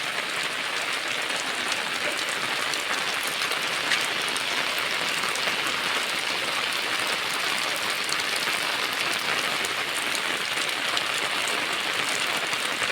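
Heavy monsoon rain in Amreli district, Gujarat, pours steadily without pause, a dense, even hiss of drops drumming on surfaces close by, loud and unbroken throughout with no voices.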